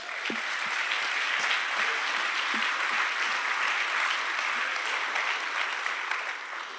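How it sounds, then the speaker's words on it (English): A seated audience at a talk gives the McKinnon family a steady round of applause, an even wash of many hands clapping that holds at one level for several seconds and then eases slightly. "So let's just take a moment and a quick round of applause"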